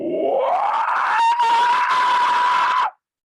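Someone vocally imitates a screamo scream: one loud, close, strained cry that starts low and climbs into a sustained high-pitched wail for nearly three seconds before stopping sharply.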